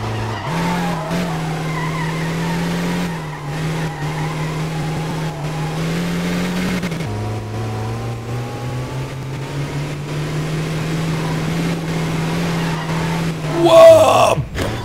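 A racing car in a video game holds a steady droning engine note, shifting pitch midway, with skidding tires, and a louder crash-like burst near the end.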